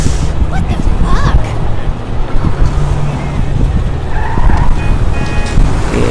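A car in the GTA V video game, driven with a steering wheel and H-shifter, roars loudly and continuously with high tire squeals and skids, plus rushing wind-like noise throughout.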